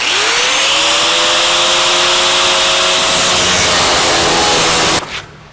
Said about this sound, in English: I don't have enough throat to cut this line on the bandsaw, so we're forced into using the cutoff wheel.